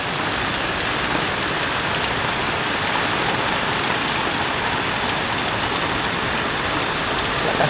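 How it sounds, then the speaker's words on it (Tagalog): Heavy typhoon rain pours down steadily, a loud dense unbroken hiss of drops hammering surfaces nearby with no break, no voices. "Ngayon lang ito, lumakas ang ulan, no?"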